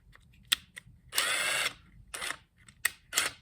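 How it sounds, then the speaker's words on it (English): A hand drill runs a bit in reverse to countersink a nail hole in a wooden cigar box guitar neck, giving short whirring bursts and clicks separated by pauses, close by. "I get a drill bit that's about the same roundness as the head of the nail. And then I make it go backwards."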